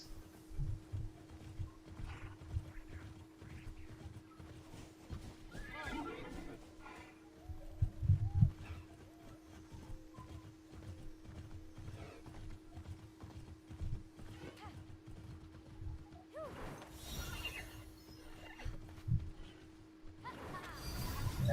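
A horse in the video game Immortals Fenyx Rising strolls gently over uneven ground, its steady clip-clop hoofbeats joined by an occasional whinny over a low steady hum, with a person talking throughout.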